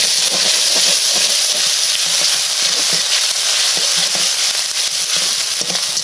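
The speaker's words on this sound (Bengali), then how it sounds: "তেল দেওয়ার পরে কিছুক্ষণ বাদে আদা রসুনগুলো বেটে রাখাগুলো দিয়ে দিলাম," Ginger-garlic paste fries in hot oil for a mussel dish, giving a loud, continuous close sizzle and hiss with faint stirring clicks.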